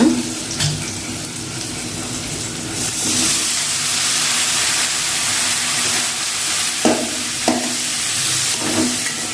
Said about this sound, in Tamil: நல்லா கிண்டி விட்டுக்கலாம். தக்காளி நல்லா வதங்கிடணும்.